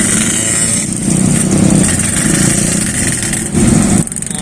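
Steady, loud roar of motorcycles and other vehicles moving along a busy road near Sarinah in Jakarta, with engine drone and passing revs that continue throughout and briefly dip near the end.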